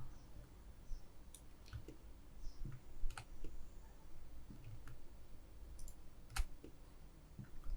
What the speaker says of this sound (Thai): เดี๋ยวผมจะคลิกตัวนี้ด้วย